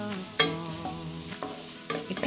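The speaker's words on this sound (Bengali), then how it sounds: "আমি নিউট্রিলা যেটা ভেজানো ছিল এটাকে আমি হালকা একটু লাল লাল করে ফ্রাই করে নেব।" Soaked Nutrela soya chunks fry in a small amount of oil in a pan. The sizzle runs throughout, broken by a few sharp scrapes and clatters of stirring over a faint tonal background.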